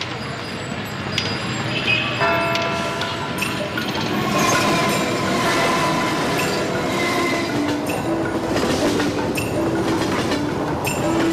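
A train rolls steadily along the rails toward the Qinling Mountains in China, a continuous rumble with clattering wheels and faint metallic squeals throughout.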